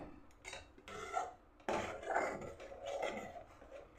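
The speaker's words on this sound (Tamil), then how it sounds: "இப்போ ஒரு கரண்டி வச்சு இங்கே ஒரு ரெண்டு மூணு டைம் வாஷ் நல்லா கிளறி விட்டுக்கிட்டே இருக்கணும்" Ladle scraping and rubbing through thick pearl millet porridge in a cooking pot, a series of close, rasping strokes in an uneven rhythm with no talking.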